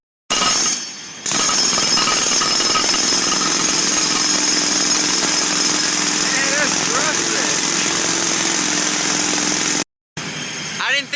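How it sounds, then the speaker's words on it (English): Loud, continuous mechanical hammering and engine roar run nearly throughout, briefly cutting out, with faint voices mixed into the din. "I didn't think any of you ever saw how a jackhammer worked before"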